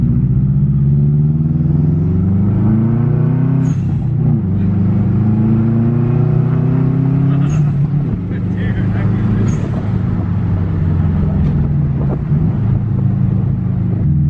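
A 2006 Subaru WRX with 175k miles pulls off a dyno, its engine revving near and loud in rising, stepped pulls with shifts between, while people talk over it.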